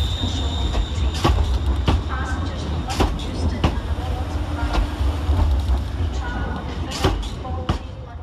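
ScotRail class 385 electric train at Glasgow Central station, with a steady low rumble broken by repeated sharp clanks and wheel clicks, and a voice talking over it.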